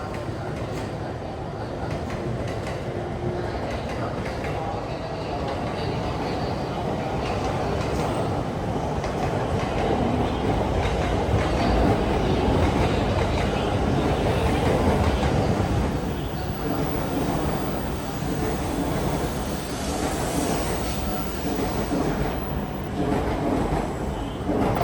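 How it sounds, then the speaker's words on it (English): The Saphir Odoriko luxury train rumbles into a Japanese station, wheels clacking and the roar swelling to a peak midway before easing off as it slows. "About 30 minutes before departure, our train pulls into the station."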